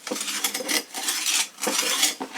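A metal knife blade scrapes repeatedly across a hard rock surface, gritty rasping strokes in quick succession, close and fairly loud with no voices.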